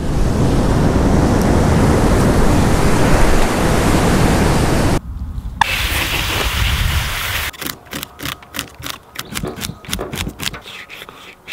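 Ocean surf washing onto a sandy beach during surf fishing for striped bass, a loud continuous rush of breaking water that cuts off and then gives way to choppier, gusting noise, with no talking.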